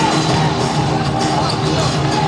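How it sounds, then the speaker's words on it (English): A basketball crowd at the Adelaide Coliseum during a PBA game between TNT Phonepals and Air21 Express, a steady loud roar of cheering and shouting filling the arena without letup. "Good Sunday crowd, good Easter Sunday crowd here at the Adelaide Coliseum"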